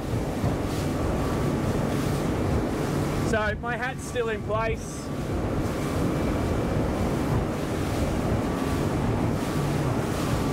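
An Axopar 24 T-top boat runs at full throttle through waves at around 33 knots, giving steady broadband engine, hull and wind roar throughout, with someone speaking briefly over it near the middle.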